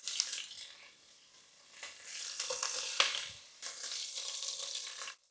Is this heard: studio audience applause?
no